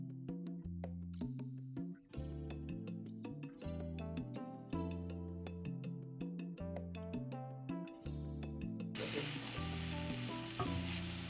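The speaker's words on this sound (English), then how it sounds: "go ahead and cook the onions down until they get a little bit brown in color" Onions frying in olive oil in a pan over medium heat, a steady sizzle under loud melodic music that gives way to a fuller hiss near the end.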